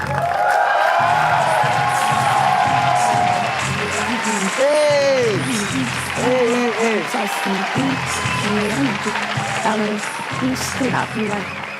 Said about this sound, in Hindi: सो प्लीज और जोरदार तालियों से स्वागत किया जाए मनीष मल्होत्रा के नाइटमेयर का उर्फी जावेद